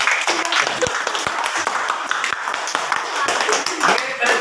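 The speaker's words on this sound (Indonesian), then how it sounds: "tepuk tangan untuk kawan-kawan kita semuanya" A classroom group claps together, producing dense, lively applause with sharp hand strikes throughout, while voices can be heard under the clapping.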